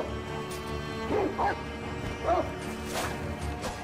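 A dog in the video game Sekiro: Shadows Die Twice gives a few quick yipping barks in close succession over a low droning game background.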